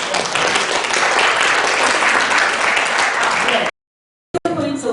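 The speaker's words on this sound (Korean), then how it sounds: "여러분 힘찬 박수로 부탁을 드렸으면 좋겠습니다." An audience at an international peace forum on Gaza breaks into loud, sustained applause for a speaker, a dense roar of clapping that cuts off abruptly, followed by a brief burst of voices.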